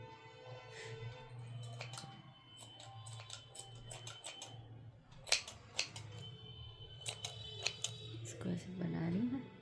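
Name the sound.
scissors cutting unravelled wool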